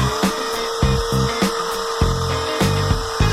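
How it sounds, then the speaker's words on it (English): Belt sander making a final smoothing pass over cherry wood: a steady abrasive whir with a rhythmic rasping rub that pulses about every half second as the sander sweeps back and forth, close and fairly loud. "making a final pass with my belt sander"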